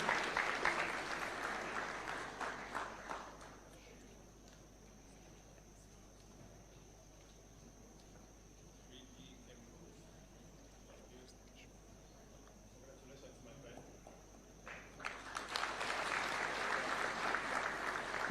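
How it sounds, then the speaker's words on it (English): Applause from a crowd at a State House tax day award ceremony, loud at first, then fading to a quiet murmur, and swelling back up strongly near the end. "A round of applause kindly."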